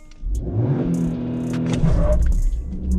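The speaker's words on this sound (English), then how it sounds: "So now let's do a quick acceleration test in 2 high. So first gear" Maruti Suzuki Jimny pulling hard in first gear in two-wheel-drive high range, the engine revving up loudly and steadily from close by, with a short break near the end as the gear changes.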